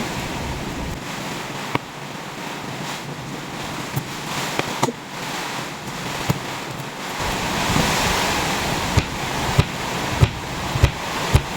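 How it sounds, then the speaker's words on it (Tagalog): Steady roaring wind and rain with rushing, surf-like noise and scattered sharp taps, loud and continuous without talk. "Super Sobrang lakas ng hangin at ulan."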